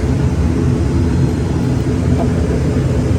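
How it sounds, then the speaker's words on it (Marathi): A small passenger airplane at Sindhudurg's Chipi Airport drones with a loud, steady engine roar heard from inside the cabin just before takeoff, with no speech. "सो रेडी टू फ्लाय आता आपलं विमान उडणार आहे"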